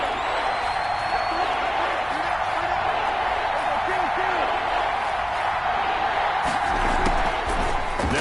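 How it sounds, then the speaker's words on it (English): Crowd noise in a football video game, a broad steady roar of cheering spectators building ahead of a big third down, with scattered thumps and a voice underneath. "the crowd getting into it as we come up on a big 3rd down"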